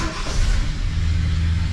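A 1969 Ford F-250 Highboy 4x4 engine catches and settles into a loud, close, rumbling idle, with a brief rising rev at the start.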